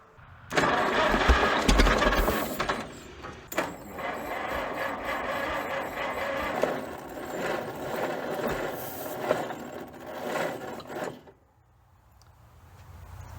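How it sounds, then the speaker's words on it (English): A junkyard Minneapolis Moline Z tractor engine cranks over slowly and unevenly, a loud mechanical churning with rattles that runs for about ten seconds, then stops, leaving quiet background. "Let's just fire backwards. It's cranking slower."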